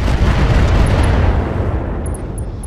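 Heavy, continuous rumbling blasts of incendiary medium-range missiles detonating in the mech combat game RogueTech, loud and sustained, with a few faint high beeps near the end.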